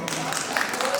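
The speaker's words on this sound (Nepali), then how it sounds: "एकचोटि जोरदार ताली प्लिज।" A crowd at a group dance competition in Tokyo breaks into a sustained, even wash of applause, with a little voice mixed in underneath.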